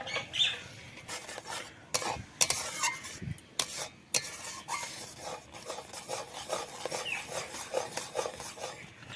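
A spoon scrapes and rubs steadily around a pan as cream for cream rolls is stirred nonstop over a lit stove, with irregular close clinks against the metal throughout.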